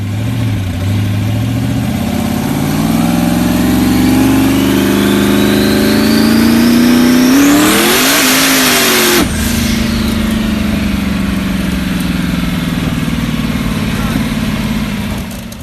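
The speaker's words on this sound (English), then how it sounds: "Then me and Maddie and Sexy Rexy took it for a cool little street drive. I love this damn car" A street-driven performance car engine drones loudly nearby, then revs up hard with a rising whine to a peak and drops back to a steady rumble.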